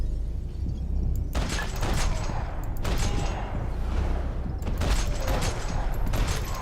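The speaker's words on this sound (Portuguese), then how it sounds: "Acho que eu preciso atirar em alguém." The player's gunfire against enemies in Max Payne 3, several loud booming shots in quick sequence over a dense, noisy action background with continuous rumble.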